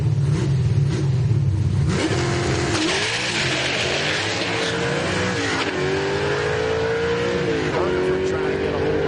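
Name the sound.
1995 Chevy Camaro big-block drag car engine revving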